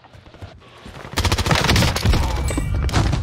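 OTS9 submachine gun firing in Warzone, rapid bursts of automatic fire starting after a quiet moment and continuing loud and dense to the end, with game sounds underneath.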